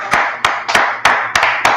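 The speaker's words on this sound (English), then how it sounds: "Let's clap it up for the Lord." Sharp, evenly spaced hand claps, about seven in under two seconds, ring out close and clear in a steady rhythm with nothing else beneath them.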